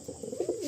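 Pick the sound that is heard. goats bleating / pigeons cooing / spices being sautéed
pigeons cooing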